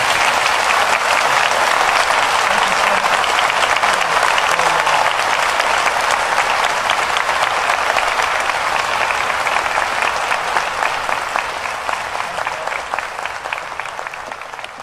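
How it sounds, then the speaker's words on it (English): A sustained round of applause from a large audience closing a session at the DEFCON hacker conference, dense and even clapping that holds steady for the full span before slowly tapering near the end. "let's have a round of applause for General Alexander"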